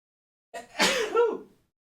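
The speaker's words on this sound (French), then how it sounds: "Excusez-moi, je vais juste me moucher." A single person sneezes once, close and fairly quiet, with a short sharp burst followed by a breathy, nasal tail; no talking around it.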